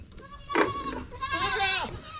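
Goats bleat close by, a couple of wavering cries in quick succession, with a faint voice in the background.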